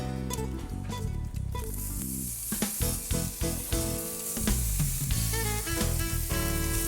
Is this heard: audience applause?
no